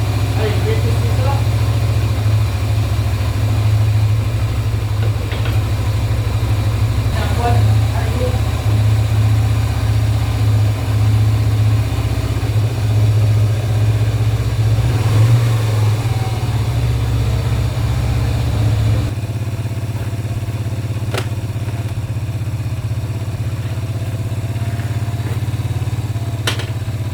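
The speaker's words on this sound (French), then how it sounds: "Ok, allez, on va la redémarrer déjà, sans starter. Nickel, je réglerai le ralenti après." A Yamaha 125 Virago motorcycle engine idles steadily after being restarted without the choke, a low, even rumble running throughout at close range. The idle settles slightly quieter toward the end.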